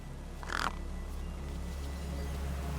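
A gang bird from the video game Beyond a Steel Sky gives a single short caw near a corpse, standing out briefly over a steady low ambient hum.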